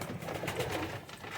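Large breeder pigeons cooing softly in a loft, a low murmuring coo under hot-weather ambience, faint and continuous with no talking.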